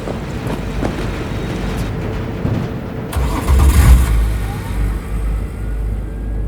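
A car engine starts up in Cyberpunk 2077, with a cranking surge and a low rumbling idle that swells loud near the middle before settling into a steady hum under faint background game ambience.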